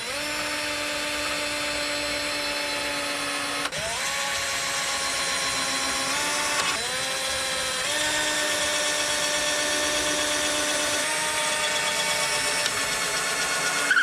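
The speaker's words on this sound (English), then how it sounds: "We'll just start by drilling some holes." A power drill bores pilot holes in discarded pallet wood for a kitchen island, its motor whining steadily and close by, with brief pitch shifts and pauses as each hole is started.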